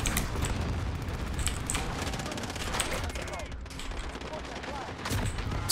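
Rapid, continuous gunfire fills the scene while shooting down an aircraft in Call of Duty: Modern Warfare, loud and dense with bursts and booms throughout.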